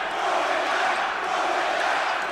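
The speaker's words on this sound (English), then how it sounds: "the crowd is chanting" A large basketball arena crowd at a Purdue versus West Virginia men's game roars in a continuous, loud wash of voices, the chant blending into the dense collective noise.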